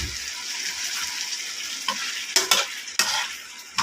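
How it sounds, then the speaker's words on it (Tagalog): Broccoli and beef stir-frying in a hot pan, a continuous sizzle with sharp bursts of stirring and tossing near the end. "Ayan, lagyan na natin ang broccoli."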